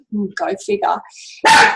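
A pet dog barks indoors, one loud sharp bark close by, heard just after a person speaks.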